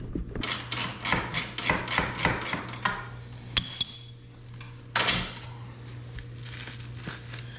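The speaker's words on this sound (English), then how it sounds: "15 mil socket, just remove your top shock bolts." Socket wrench work loosening the top shock bolts with a 15 mm socket on a 2022 Renegade 1000 XMR ATV: a run of rapid rasping, clicking ratchet strokes, then a sharp metallic clank and a second short burst, close up with a steady low hum underneath.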